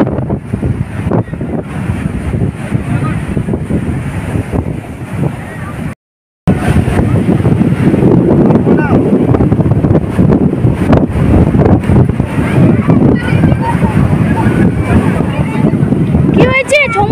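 Wind roars across the microphone at Chandrabhaga beach while sea waves wash in steadily, loud and continuous. The sound cuts out for a moment partway through, and faint voices mingle in the background.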